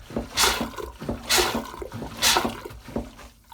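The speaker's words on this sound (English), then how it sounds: "it brings in the seawater from outside to flush and drain." A small boat's marine toilet flushes with seawater in rhythmic gushing pulses, about three strong surges within a few seconds, close and without speech.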